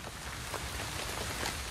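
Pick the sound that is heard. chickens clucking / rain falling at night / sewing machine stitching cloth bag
rain falling at night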